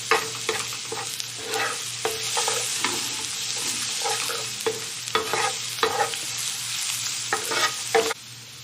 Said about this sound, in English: You want to cook it a little until you reach a nice brown color.